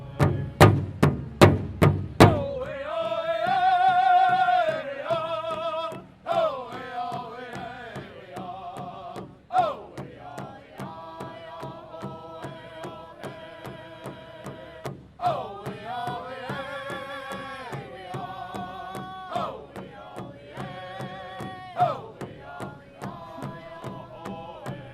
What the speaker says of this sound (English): clap along to this Native American water drum performance